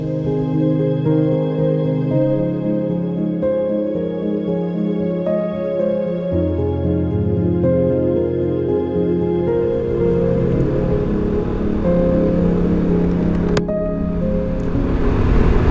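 A Vespa scooter out on a ride, with a steady engine drone and a shifting low hum as it moves along, wind rushing across the microphone throughout and the pitch rising and falling with speed.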